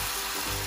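Squid frying with turmeric in a pan as it is stirred and tossed, giving a steady, close sizzle with a soft scraping shift partway through and no talking.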